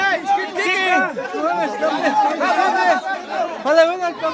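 Many voices overlap in lively, close chatter at a communal Nahua celebration in Ameyaltepec, a continuous babble much like a busy market crowd.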